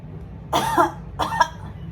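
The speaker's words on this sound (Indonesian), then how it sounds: "tarik napas, tahan selama 3 detik, lalu batukkan 2 kali" A patient demonstrates an asthma breathing technique with two deliberate coughs, each a short, close burst separated by a brief pause against a quiet room.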